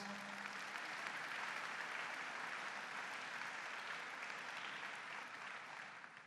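Sustained applause from a large audience at a governor's inaugural address, welcoming the family, a steady dense wash of clapping lasting throughout and tapering slightly at the end.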